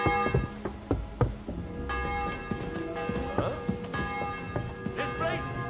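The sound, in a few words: church bell tolling in Kingdom Come: Deliverance II video game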